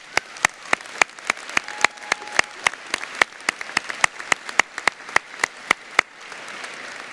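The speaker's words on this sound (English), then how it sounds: "Please give them a round of applause." Applause at a community college graduation ceremony, with sharp, evenly spaced claps standing out over a softer wash of scattered clapping, fairly close and steady before thinning near the end.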